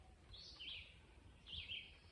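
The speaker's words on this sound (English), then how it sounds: "The birds, listen to the birds." Birds chirp at a forest campground in Tolland State Forest, with two short bursts of high calls a second apart, fairly faint over a low outdoor rumble.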